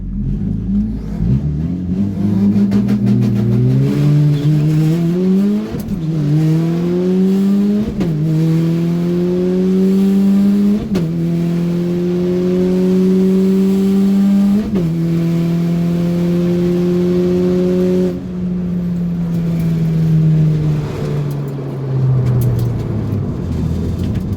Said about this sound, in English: we're racing like a 700 horsepower Subaru